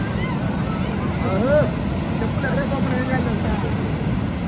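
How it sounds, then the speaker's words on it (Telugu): Large ocean waves surge and wash onto a beach in Goa, a steady broad roar of surf running throughout at close to moderate distance, with people talking over it. "చూడండి ఎంత పెద్ద అలలు వస్తున్నాయో."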